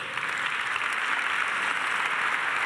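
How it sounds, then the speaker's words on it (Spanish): A church congregation claps together in a short, dense burst of applause, even and continuous throughout without a break. "si vamos a aplaudir, aplaudamos todos"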